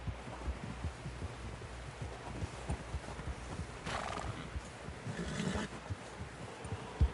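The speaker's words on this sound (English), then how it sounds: "Someone help John down off this horse" Steady clip-clop of horse hooves throughout in the video game Red Dead Redemption 2, with a horse neighing partway through over a busy, rumbling background.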